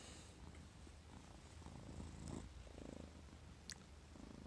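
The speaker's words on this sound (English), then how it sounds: "Them purrs." A cat purrs close by in a continuous, soft, rumbling rhythm over a quiet indoor background, with no voices.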